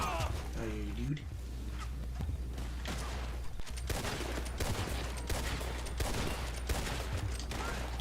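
Gunfire in a shooter video game, repeated sharp shots in quick succession, some in rapid clusters, fairly close and loud, with a player talking throughout.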